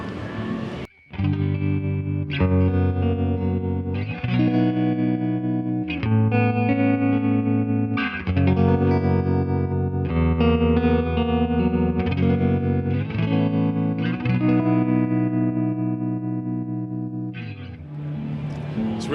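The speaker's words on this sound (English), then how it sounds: "Tremolo as well, we've replicated that really, really well, so let me try that too." Electric guitar played through a Fender Tone Master amp with a pulsing, wavering tremolo, sustained chords ringing steadily and fairly loud, with no talking.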